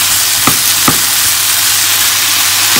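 Chopped onion fries in a hot pan for spicy beef fajitas with cayenne, giving a steady close sizzle with a couple of sharp stirring scrapes early on.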